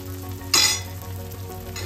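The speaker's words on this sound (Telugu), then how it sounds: "ఇప్పుడు లో ఫ్లేమ్లో ఫ్రై అవనియాలండి దోశని." A rava dosa fries on a pan with oil over a low flame. A steady hiss of frying fills the clip, with a brief louder burst of sizzle partway through.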